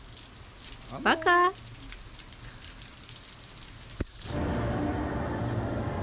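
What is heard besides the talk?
rain pouring outside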